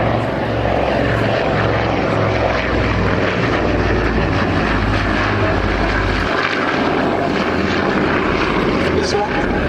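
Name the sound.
vintage propeller aircraft engines at an airshow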